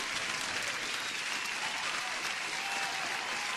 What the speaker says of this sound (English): I wanted to give you an applause